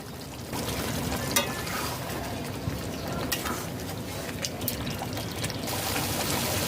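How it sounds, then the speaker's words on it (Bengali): Hot water, about a cup, poured into a pan of curry gravy with yogurt for a fragrant chicken curry, a steady close rushing splash that runs continuously without pause. "গ্রেভি পাত্রে এক কাপ গরম জল দিয়েছি"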